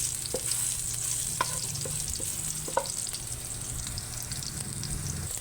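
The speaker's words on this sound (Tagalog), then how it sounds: "Gisa na natin yung ating garlic crust." Garlic sautés in a pan for chicken adobo, giving a continuous close sizzle with a high frying hiss, broken by occasional light taps and scrapes of a utensil as it is stirred.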